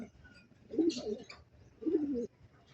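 Racing pigeons circling after release on a training flight, two soft cooing bursts close by, the first with a brief higher flutter, separated by quiet outdoor background.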